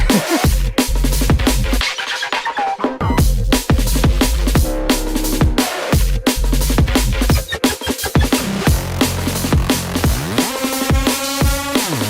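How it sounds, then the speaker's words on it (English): Punchy, driving drum and bass breakbeat drums with deep bass hits and crisp cymbals, loud and continuous, with a sparser, stuttering passage toward the end. "Drums sound really nice"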